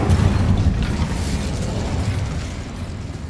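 Incendio spell in Hogwarts Legacy erupts in a loud, close fiery burst that rumbles and slowly fades over a few seconds.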